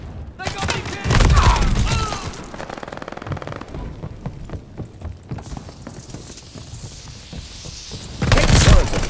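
Rapid bursts of automatic gunfire and booming shots in a Call of Duty: Vanguard multiplayer match at a hardpoint, loud and close, with a pause in the middle before heavy fire resumes, mixed with shouted voices.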